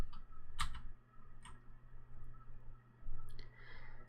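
Typing on a computer keyboard while coding, scattered sharp key clicks spaced irregularly, close and fairly quiet over a low background hum.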